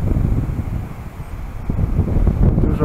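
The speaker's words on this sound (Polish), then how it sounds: "Dzisiaj wieje dość silny wiatr" Strong wind buffeting the microphone on a ski slope, a continuous roaring gust that swells louder toward the end, with no voices.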